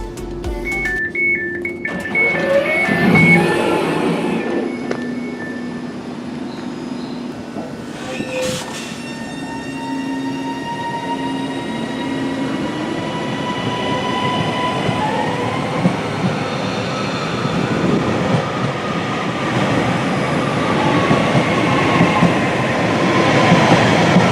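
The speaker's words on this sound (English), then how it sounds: "So let's get off this train and have a look around and film some trains." A passenger train rumbles steadily past close by, with a brief horn early on, squealing wheel tones and clattering over the rails growing louder.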